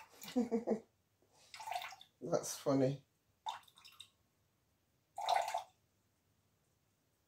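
Water trickles into a container during the making of a complexion cream, coming in several short, close pours separated by pauses, with a brief spoken remark in between.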